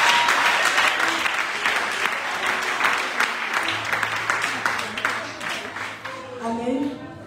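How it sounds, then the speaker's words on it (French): A church congregation at a night vigil claps and cheers for Jesus in a sustained, loud wave of applause that slowly tapers off, with voices rising near the end. "Est-ce qu'on peut encore acclamer Jésus?"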